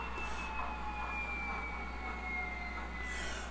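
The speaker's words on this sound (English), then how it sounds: "So we can go through and shut the prime mover down" A Tsunami2 sound decoder in a model diesel locomotive runs down its prime mover as it shuts off, giving a steady, droning engine hum with a faint whine that holds without breaks.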